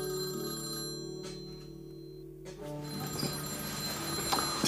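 A telephone rings indoors with a sustained electronic ringtone, loud and repeating, breaking off briefly before resuming with faint room noise behind.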